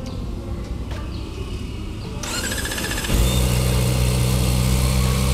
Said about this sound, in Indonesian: Coba kita dengerin ya dan kita bandingin sama ZX25R-nya langsung kayak gimana sih suaranya.